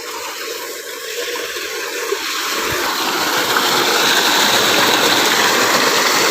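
Water gushing from a running tubewell in a rural field, a broad steady rushing roar that swells louder after the first couple of seconds and then holds constant, close by.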